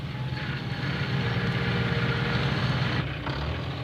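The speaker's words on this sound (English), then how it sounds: "It was Peter Fogg on his new tractor with the bulldozer blade." Powerful engine of a new tractor fitted with a bulldozer blade, coming up a rainy road: a steady, fairly loud low rumble that holds throughout with no voices.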